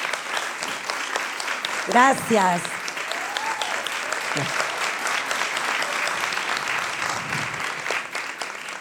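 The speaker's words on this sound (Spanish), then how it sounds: "Un aplauso." An audience claps for a visiting theatre teacher at a stage presentation, steady applause filling the room while a voice briefly speaks and exclaims over it.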